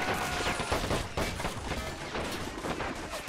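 Battle explosions in the WWII game MoWAS2, heard as a dense barrage of booming blasts and rapid gunfire overlapping continuously at steady loudness.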